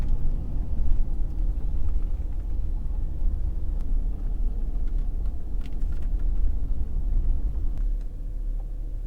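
A pickup truck driving up a steep Ozark mountain road toward a lake, heard from inside as a steady low engine and road rumble with faint rattles throughout.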